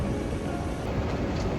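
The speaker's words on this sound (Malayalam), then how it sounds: "ഇതാണ് ഇവിടുത്തെ മെട്രോ." A Doha metro train runs with a steady broad rumble and rushing hiss, fairly loud and close, holding level for the short stretch without any voices.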